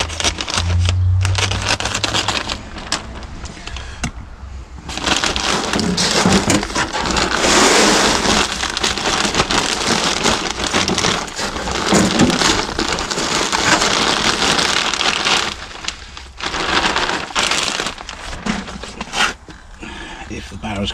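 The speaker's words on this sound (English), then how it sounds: "So I'm going to put a whole bag of that in the wheelbarrow." A whole 50-litre bag of multi-purpose compost tipped into a wheelbarrow, a loud rushing, crumbling pour in long bursts with brief pauses, and a voice speaking over parts of it.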